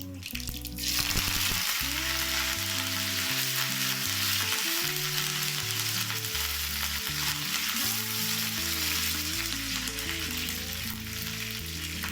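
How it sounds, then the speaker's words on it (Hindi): Mustard seeds and curry leaves sizzling in hot oil, a strong, steady hiss that starts suddenly and holds throughout, with a background tune playing underneath. "सरसों पूरा सीजल करना चाहिए"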